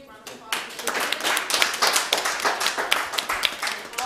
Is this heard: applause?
yes